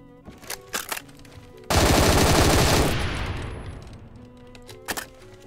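A gun in Phantom Forces fires one loud, sustained automatic burst of about a second and a half that rings out and fades, framed by quieter game noises and clicks before and after.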